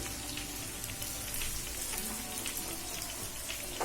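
Onions fry in a pan as the base for a Bihari-style chicken gravy, giving a steady, dense crackling sizzle that holds even and close throughout with no voices.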